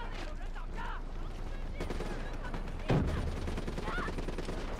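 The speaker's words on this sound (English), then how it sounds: "Where am I getting shot from?" Gunfire during a Call of Duty: Black Ops 3 campaign mission, with scattered shots and bursts among game effects and a sharper, louder blast near the middle.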